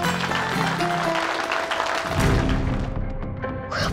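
An audience applauds a group performance on a staged show, with clapping mixed with sustained musical tones and heavy thuds partway through.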